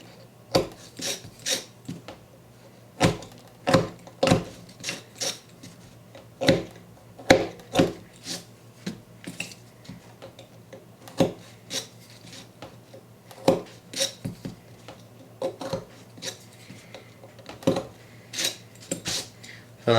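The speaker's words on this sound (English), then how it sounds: "clean off all the burrs at the end of each arm with an X-Acto blade" An X-Acto blade scraping burrs off the plastic rear arms of a Team Associated RC8B4 RC car, a series of sharp, close scratchy strokes in an irregular rhythm.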